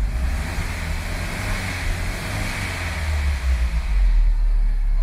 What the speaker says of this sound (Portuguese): vamos acelerar esse carro para ver se vai apagar